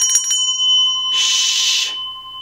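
A bell rings, first a few quick metallic strikes and then a bright sustained ringing burst of about a second that stops abruptly, loud and close with no talk.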